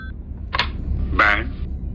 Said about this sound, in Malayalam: നമുക്ക് ഫോൺ വിളിച്ചേക്കാം.